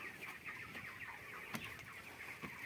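Chickens cluck and murmur steadily in a rooftop shed of a village poultry farm, a continuous flock chatter with occasional sharper calls, fairly quiet and close.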